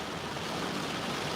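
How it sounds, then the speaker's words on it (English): Wind and rain sweep through a tropical storm in Fort Myers, Florida, as a dense, steady broadband roar of gusts and falling rain, loud and unbroken through the brief moment. "It's raining pretty good, and the wind's starting to howl a little bit"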